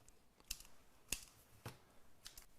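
Scissors snipping loose thread during bag making, four or five sharp, quiet clicks spaced apart in a calm room, with no talking.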